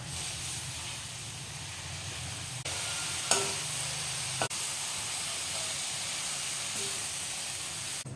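Spinach sizzles in a pan with sautéed tomato and onion, a steady close hiss of frying with a couple of sharp clatters partway through; no talking.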